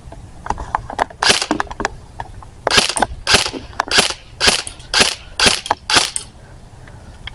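An airsoft gun fires 0.2 gram BBs at a target about 25 feet away, a run of sharp snapping shots, a few spaced then a faster string of about ten loud cracks close by.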